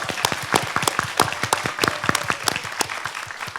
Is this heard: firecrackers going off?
no